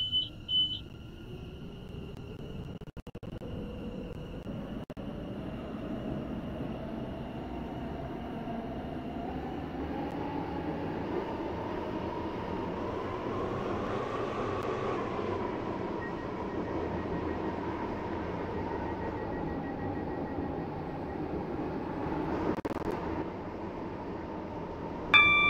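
A four-coach train in the Roblox railway game Stepford County Railway runs steadily along the line, a low continuous rumble and hum whose motor pitch rises and falls gently. A chime sounds near the start and again at the end.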